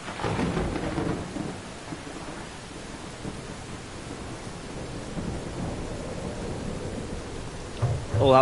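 Rain pours steadily with rumbling thunder in the tram-driving game Tram Simulator Urban Transit, a louder roll at the start and another burst near the end.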